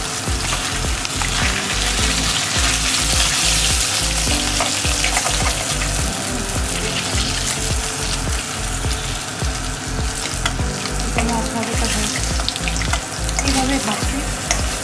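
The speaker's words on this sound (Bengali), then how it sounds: "এইভাবে ভাজছি।" Pieces of katla fish sizzle in hot oil in a kitchen pan, a loud continuous crackling hiss with scattered pops and occasional stirring clatter, heard close up and without speech.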